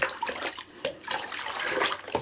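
Water being poured into a container to make a pest-prevention spray for houseplants, a continuous splashing, gurgling trickle close by, wavering in strength, without any talking.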